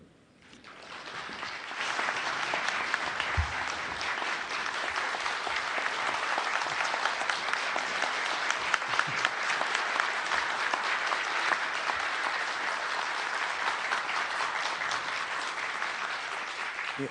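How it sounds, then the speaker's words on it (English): Sustained, dense applause fills a hall at the National ICT Summit 2022 in Manila as President Ferdinand Marcos Jr. is introduced, rising quickly and holding steady and loud throughout. "You mustn't applaud me that much now."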